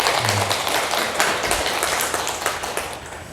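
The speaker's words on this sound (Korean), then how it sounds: "김도희 성도님 간증할 때 박수 한번 주세요." A church congregation clapping in a rural village church, a brisk, even round of applause heard close and continuous for a few seconds.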